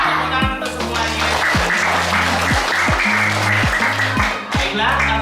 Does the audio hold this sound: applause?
yes